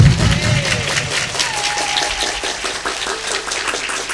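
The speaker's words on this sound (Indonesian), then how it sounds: "boleh tepuk tangan nggak?" A crowd claps at an Islamic New Year 1446H gathering held at Rumah Tahfiz Qur'an Al Falah. The applause is sustained and fairly loud, a dense stream of overlapping claps running for about four seconds without letup.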